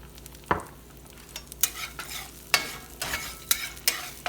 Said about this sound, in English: You stir them around, and they scramble themselves.